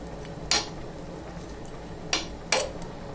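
Utensils clatter against a pot while okra cooks in a spicy, light curry, with three sharp metallic clinks over a steady background hiss.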